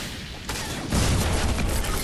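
Video game explosions set off by a blown-up gas can: a sudden broadband blast followed by a second, heavier roaring boom that sustains loudly, with no talking.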